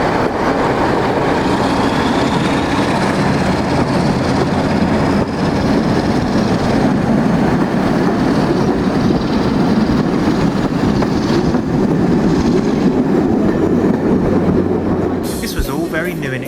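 A Class 47 diesel locomotive hauling a passenger train on a Norfolk railway departs, its engine roar building into a steady, loud rumble that holds throughout, with a brief hiss near the end.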